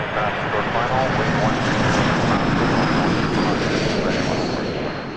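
Airbus A220 airliner on short final at Toronto Pearson Airport, a loud, steady broadband engine roar that holds throughout and eases slightly at the end, with radio talk over it.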